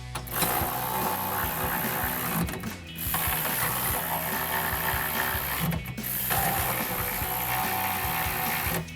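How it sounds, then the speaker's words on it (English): A ratchet with a 13mm socket tightens locking nuts on a bracket for tubular drop steps on a 2019-2025 RAM 1500, giving steady close clicking that runs almost continuously with two brief pauses. "We're gonna grab our ratchet"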